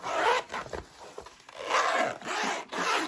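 Zipper on a large open zippered pocket of a sewn tote bag, zipped back and forth in several quick rasping strokes, close and fairly loud with no talking.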